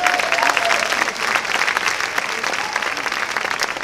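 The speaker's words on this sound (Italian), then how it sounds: "Facciamogli un applauso." Steady applause from the audience at an Italian folk concert, a dense, fairly loud wash of clapping that holds throughout with no speech over it.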